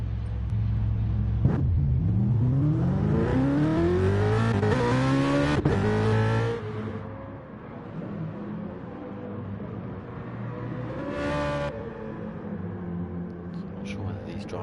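Racing cars in a Gran Turismo-style GT3 online event at Lago Maggiore roar and rise through rising engine pitch, loud and close for the first six seconds, then the field fades to a steady distant drone with a brief pass near eleven seconds.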